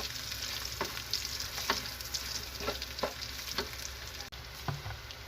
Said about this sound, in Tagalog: At yung kasunod ay haluin ko pa siyang konti.